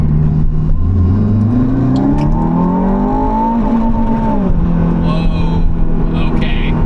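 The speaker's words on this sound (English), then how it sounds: "right now, I'm driving the Aston Martin Valhalla with a Corvette ZR1X behind me." Aston Martin Valhalla hybrid supercar engine revving up as it accelerates on the road, a loud, steady rising drone that climbs in pitch, dips briefly, then pulls again, close and continuous throughout.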